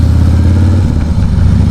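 A Harley-Davidson Fat Boy motorcycle engine throbs loud and close with a deep, lumpy low-end pulse, running steadily through the whole stretch with a slight swell partway and no voices over it.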